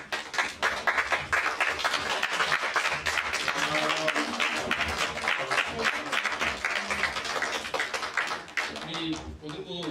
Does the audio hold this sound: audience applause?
yes